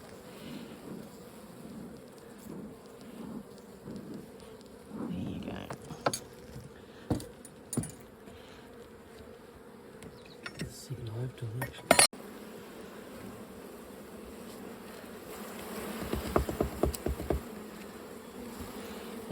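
Honey bees buzz around an open horizontal Flow Hive during a pest inspection, a steady low drone close by, with occasional metallic clinks and handling knocks of hive tools and frames.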